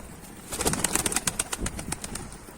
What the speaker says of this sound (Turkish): Biraz kanat sesi de biz de duyalım ya.